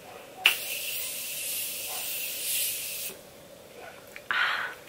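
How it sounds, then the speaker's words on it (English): A Morphe setting spray hisses onto a face in two bursts, a long steady spray followed by a shorter one, close and clear with no talking. "So we're going to set it with the Morphe setting spray."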